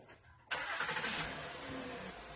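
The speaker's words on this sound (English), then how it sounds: "So all looks good and I'm going to start the engine." A Honda VTEC car engine cranks and catches abruptly, then settles into a steady, fairly quiet idle, heard close with no talking.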